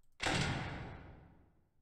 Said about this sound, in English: It's the FNAF door sound